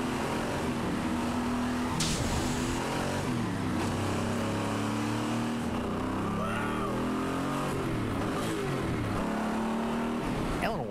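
The engine of a 1967 Ford Mustang Eleanor with 535 horsepower roars and accelerates hard on nitrous, pitch climbing in steady sweeps, loud and close throughout.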